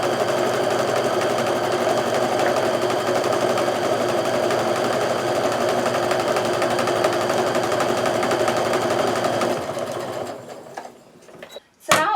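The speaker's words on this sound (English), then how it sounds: "I'm going to sew down both sides of that line" A sewing machine stitches down both sides of a drawn line on a Starburst Galaxy quilt block, running at a steady, continuous rattle for about ten seconds before slowing and stopping, with a few handling clicks at the end.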